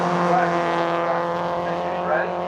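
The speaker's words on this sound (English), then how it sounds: "As those 3 cars go down lakeside, the leader comes through his chicane." An MG race car at Oulton Park during an MGOC Championship race threads through a chicane on the final lap, a sustained loud engine drone with shifting pitch as it passes, under race commentary.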